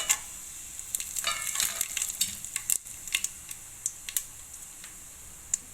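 Asafoetida powder and whole spices dropped into hot oil with mustard seeds for a village-style vegetable biryani, crackling and sizzling quietly as sharp pops and ticks break out over a faint frying hiss.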